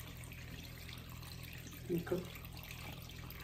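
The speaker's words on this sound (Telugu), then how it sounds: "చూడండి ఎంత చక్కగా వాటర్ వచ్చేస్తుందో" Water runs from an opened tap in a soft, steady stream, faint against a low background hum, with a short spoken word partway through.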